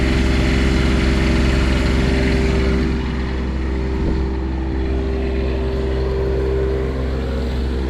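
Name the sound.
RV generator running on air spring mounts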